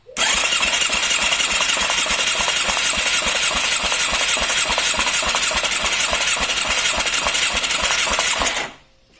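A Yamaha YZF 750R motorcycle engine, carburetors removed, cranks loudly and steadily on the starter for a compression test, with a fast, even rhythmic churn for about eight seconds before cutting off.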